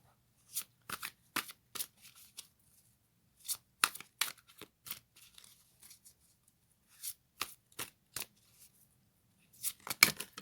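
Tarot cards are shuffled by hand in quick, crisp bursts of riffling and slapping, separated by short pauses, close and clear against a quiet background.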